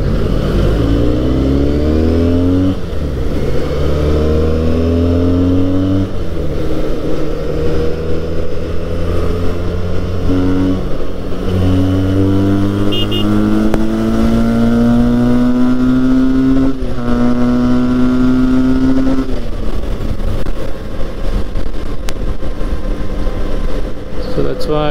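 A Benelli 302R 300cc sports motorcycle on a ride to Yelagiri roars loud and close, its engine climbing through repeated rising revs and gear changes in a continuous drone, with wind rush throughout.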